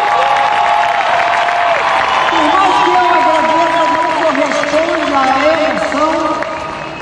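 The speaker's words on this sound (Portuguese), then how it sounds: "Longos minutos de aplausos intensos" Long, intense applause from a theatre audience greeting an actress after a play, a dense steady wash of clapping with voices and shouts mixed in, fading slightly at the end.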